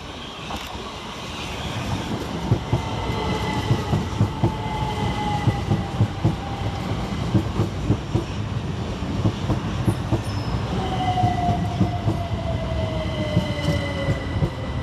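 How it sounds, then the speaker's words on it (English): Southern Railway units 377156 and 377157 roll into Preston Park station, with rumbling wheels, steady rhythmic clicking over rail joints and drawn-out wheel squeals that sweep downward in pitch, close and continuous throughout. "Next into the station is 377156 and 377157, working the 11:49 Southern Railway service from London Victoria to"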